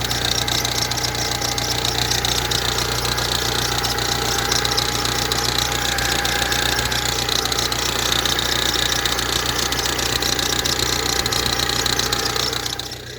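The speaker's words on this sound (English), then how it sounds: "That rattling sounds like the power steering pump." Ford Transit Connect engine idling with a rattling, tapping noise suspected from the power steering pump, a steady close mechanical clatter with constant vibration, continuous until a slight drop at the end.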